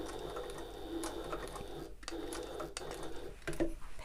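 Sewing machine stitching to the corner of an open-top tote, a steady close mechanical whir with rhythmic ticking, briefly pausing for a pivot before running again.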